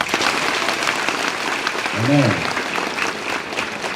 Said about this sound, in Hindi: अपने आप के लिए जोरदार तालियां दें